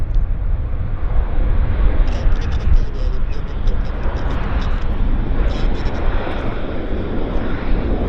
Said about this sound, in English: Look at this Q400 Westjet.